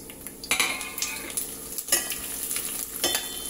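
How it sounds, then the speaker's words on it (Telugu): Tempering spices for a popu (urad dal, chana dal, mustard seeds, cumin and dried red chillies) hit hot oil and sizzle loudly, with crackling pops and metal stirring clinks in irregular bursts. "ఇప్పుడు ఇవన్నీ పోపు దినుసులు అన్నీ వేసేసుకుందాం."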